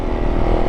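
A 450 quad bike engine roars at high revs while drifting, a brief, very loud, rough and close blast of sound.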